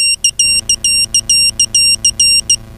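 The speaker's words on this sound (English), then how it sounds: "We get a rather rude beeping" Rapid, piercing electronic beeps from a BabyHawk R 2-inch FPV quadcopter drone refusing to arm, in an irregular stuttering series of short and longer tones, loud and close over a faint low hum.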